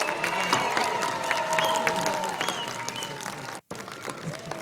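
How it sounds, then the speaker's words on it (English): Crowd applause with scattered cheers for a band at an outdoor Winter Wonderland holiday event, steady clapping mixed with whistles and voices, briefly cutting out near the end. "Let's give them a great round of applause, everyone."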